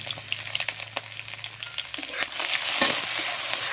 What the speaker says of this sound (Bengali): কেটে ধুয়ে রাখা চিংড়ি মাছগুলো দিয়ে একটু ভেজে নেব